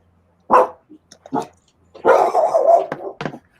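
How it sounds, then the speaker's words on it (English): A pet dog barks indoors during a live online readalong, giving a sharp single bark, then a short yip, then a longer run of rough, close barking and whining over a few seconds. "My dog's barked one time"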